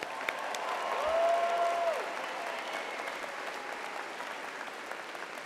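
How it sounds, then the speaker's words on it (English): At a university architecture, design and arts spring commencement, a distant crowd cheers and applauds for the graduating class, a soft wash of clapping with a brief whistle-like cheer rising above it. "Let's get a cheer for the class of 2023."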